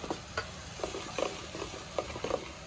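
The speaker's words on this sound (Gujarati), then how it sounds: "વઘારમાં મીઠું જેવું નાખી દઈએ વઘાર સારો થાય" Sizzling oil with quick crackling pops and a few stirring scrapes, close and steady throughout, as spices and salt temper for an aubergine dish.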